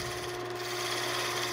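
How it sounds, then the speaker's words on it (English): A wood lathe roughing out stock with a gouge gives a steady close humming whir with a constant mechanical tone and a continuous scraping hiss of cutting, unbroken through the short moment. "Come in and just rough it out with the gouge."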